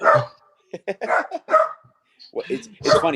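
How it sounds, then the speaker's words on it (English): A dog barks at a possum, a few sharp barks mixed in with and partly under someone talking nearby. "He will bark until the possum is gone."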